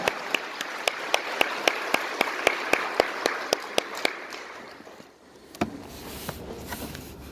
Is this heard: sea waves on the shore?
no